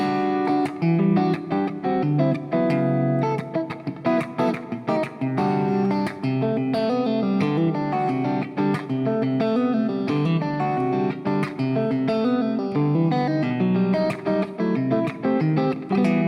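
Percussive fingerstyle guitar plays a busy, dense passage with steady rhythmic hits between strummed notes, closing on a final chord hit; loud and close, no talking.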